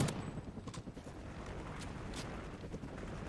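Rapid video game gunfire in a hardcore team deathmatch shooter, aimed at an enemy SATCOM, heard as a fairly faint, continuous rattle of shots with a few sharper bursts under a low background rumble.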